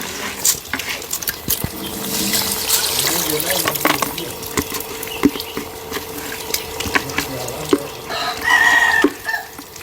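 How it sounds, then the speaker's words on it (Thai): Rice being rinsed in water by hand before steaming, close-up sloshing, swishing and grain rattling with intermittent splashes, a rooster crowing near the end. "ก็จะล้างข้าวแบบนี้เลยนะคะ นี่ก็เป็นการล้างข้าวนะคะ"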